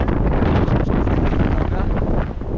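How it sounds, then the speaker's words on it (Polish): Strong wind roars across a mountain pass near Kazbek, buffeting the microphone in a loud, continuous rumble that swells and dips without pause for a few seconds. "Wieje tak potwornie"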